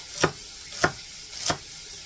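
Celery being diced on a cutting board for a bean and bacon soup: three sharp, separate knife chops spaced about half a second apart, close and crisp against a quiet kitchen background.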